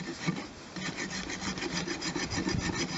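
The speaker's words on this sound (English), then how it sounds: "We're just trying to clean the dirt off the hoof." A horse's hoof is scrubbed clean of dirt with steady, close rasping strokes in a fast back-and-forth rhythm, continuous and moderately loud with no voices.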